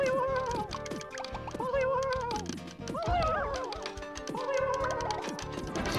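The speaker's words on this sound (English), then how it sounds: "One cannot simply escape the Butterfree noises." Butterfree Pokémon cries repeat in a video game, a series of warbling, meow-like chirps rising and falling over steady game music and tapping sounds.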